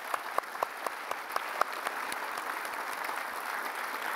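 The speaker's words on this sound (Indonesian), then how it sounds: "Tepuk tangan dulu" Studio audience applause on an Indonesian TV talk show, a steady wash of clapping from a crowd with a few sharper individual claps standing out early, then settling into an even patter that carries to the end.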